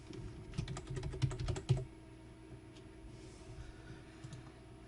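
Keyboard shortcuts typed on a computer keyboard while building a login form in Visual Studio: a quick, quiet run of close clicking keystrokes in the first two seconds, then near silence with a few scattered taps.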